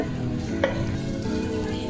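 Mini pizza warming on an Indian tava griddle gives a steady, close sizzle throughout, with one light metallic clink near the start.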